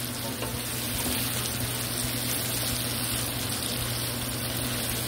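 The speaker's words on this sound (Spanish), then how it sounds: "Dejamos sofreír hasta que la berenjena esté cristalizada" Eggplant sautéing with other ingredients in olive oil in a pan, giving a steady, dense sizzle and crackle that holds evenly throughout, with a low hum beneath and no talking.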